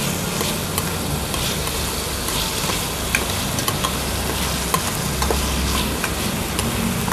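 Tomatoes sautéing with gourd and shrimps in a pan, a steady close sizzle with scraping stir strokes running throughout.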